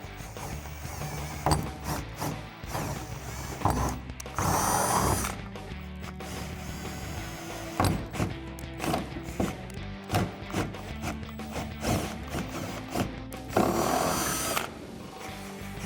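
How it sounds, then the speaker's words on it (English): A power drill with a 9/32 drill bit bores through an existing hole while fitting a hood scoop on a 2018-2020 Mustang, running in steady whirring bursts with louder surges, close and with no talk. "we've got our 9/32 drill bit, and we're gonna finish it up, drilling right through that same hole."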